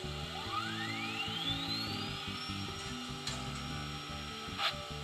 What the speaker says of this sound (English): You'll hear the dynamo start spinning.